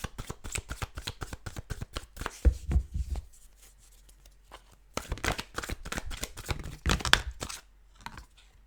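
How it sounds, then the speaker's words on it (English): Tarot cards are shuffled in quick riffling bursts, pausing briefly before another round of crisp, close-up shuffling. "Start the shuffle."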